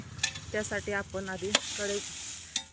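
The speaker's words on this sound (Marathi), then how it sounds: "पातेल्यामध्ये थोडंसं मीठ टाकून ही मिरची भाजायला टाकलेली आहे" Dry red chillies roast with salt in a pot, giving a soft sizzle and stirring rustle beneath a person speaking close by.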